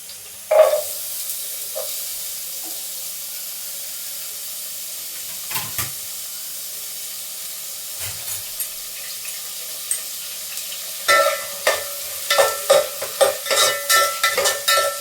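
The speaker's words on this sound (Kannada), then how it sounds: "ಈರುಳ್ಳಿನ ಚೆನ್ನಾಗಿ ಬಾಡಿಸ್ಕೊಬೇಕು." Chopped onion fries in a little oil in a pan for tempering, quiet at first with sparse clinks and stirs, then louder bursts of sizzling and scraping toward the end.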